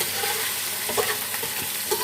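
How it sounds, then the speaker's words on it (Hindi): Washed chicken pieces frying with onions in hot oil, a loud, continuous close sizzle with occasional soft stirring scrapes and pops. "चिकन को फ्राई कर लेते हैं"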